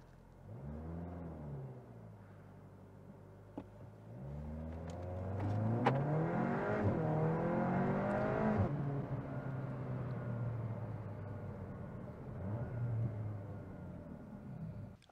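A CUPRA Formentor VZ crossover with 333 hp pulls away close by, its engine climbing in pitch through repeated revving sweeps before settling into a steadier lower drone.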